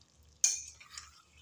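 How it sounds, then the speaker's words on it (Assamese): Chicken pieces frying in hot oil with whole garam masala are stirred once: a sudden scrape of the spoon, then a soft sizzle that fades over quiet background hum. "চিকেনখিনি এনেকৈয়ে ভাজি থাকিম"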